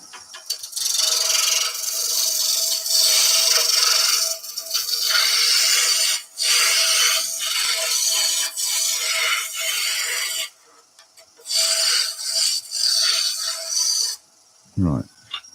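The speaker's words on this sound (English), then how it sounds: "Turn the lathe on. Turn the lathe up. We'll use the roughing gouge first." A wood lathe spins a blank for a toadstool nutcracker while a roughing gouge cuts it, giving a loud, steady rasping hiss that runs in long stretches, drops out briefly and ends with a short low thud.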